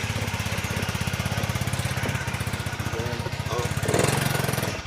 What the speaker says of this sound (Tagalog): Ayan, yung motor ni Kuya Bobby.